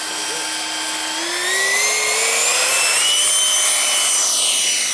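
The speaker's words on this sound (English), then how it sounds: "The fan noise just really sounds good." A Vampire EDF radio-controlled model jet's electric ducted fan whines at about half throttle, a steady high whir with pitch that rises and shifts as the plane flies past, loud and continuous with no talk over it.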